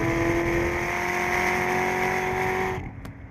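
Sports car accelerating hard uphill at Laguna Seca, a loud, steady, high-pitched engine howl heard from onboard that cuts off sharply near the end.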